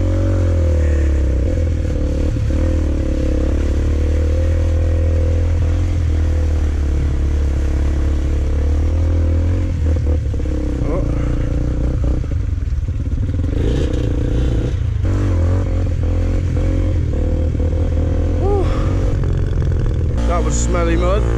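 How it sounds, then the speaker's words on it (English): An off-road motorcycle out green laning runs roughly with a wet spark plug, its engine droning loud and steady with uneven revs, clatter and scraping, while a rider talks over it throughout. "Bike keeps cutting out because the spark plug's got wet now."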